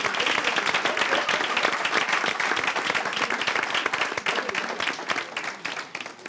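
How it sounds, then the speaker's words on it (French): Audience applause for a group of trainee entertainers gathered on stage, dense sustained clapping that gradually thins into more distinct individual claps toward the end. "On va applaudir pour eux."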